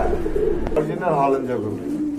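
A pair of pigeons cooing close by in a bird market, soft throaty coos rolling out in a short burst, with someone talking over them.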